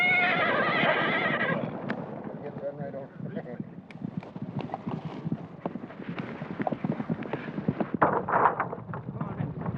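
A horse whinnies loudly at the start, followed by scattered hoof clatter and rustling, with another fainter neigh near the end, on a horse-raising property west of the Rocky Mountain Trench.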